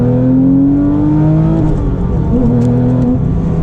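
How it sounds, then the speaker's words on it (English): A Porsche 997 GT3 on Cup 2 tyres revs toward high RPM, a loud, continuous engine roar that climbs in pitch, dips briefly at a shift, then climbs again. "it comes alive at the top of the rev band"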